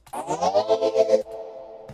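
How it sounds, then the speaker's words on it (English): A synth tone bends upward a whole octave with a warbling, echoing texture, then cuts to a lower sustained tone. "it's gonna scratch like a pitch bend and whole octave"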